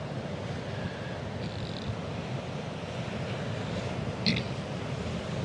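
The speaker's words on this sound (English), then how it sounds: "you might even hear the ocean and the wind as we are in a public place" Ocean surf and wind in an open public place make a faint, steady rumbling wash, with a couple of soft distant tones drifting through the background.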